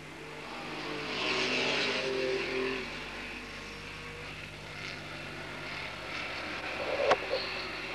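Rover race cars accelerate away from a green-flag start at Hednesford, a fairly faint engine roar rising and fading at a distance, with a brief sharper burst near the end.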